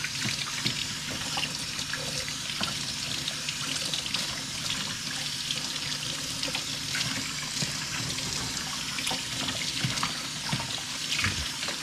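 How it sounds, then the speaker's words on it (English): Tap water runs into a kitchen sink while celery sticks are washed under it, a steady close splashing flow with small irregular sloshes throughout. "Go ahead and wash out these celery sticks."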